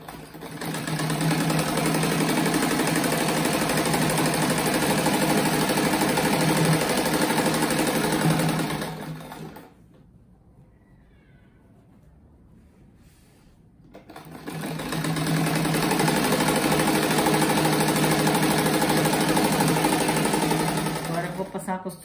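A sewing machine stitches a fabric rug in a loud, rapid, continuous run, stops for a few seconds of near silence, then resumes stitching steadily to the end.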